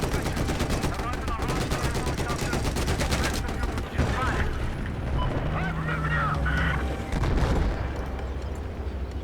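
Rapid automatic gunfire in the Battlefield 4 video game, dense bursts under excited shouting, with a loud honking tone and scattered blasts in the mix.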